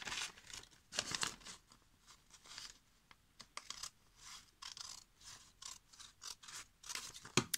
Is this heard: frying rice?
no